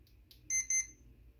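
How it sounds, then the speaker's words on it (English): A Hobbywing QuicRun 1080 G2 brushed electronic speed control in a CEN F-450 Dually RC truck gives two short, shrill electronic beeps during throttle setup, close and clear over a quiet background hum. "2 beeps. That is set for forward."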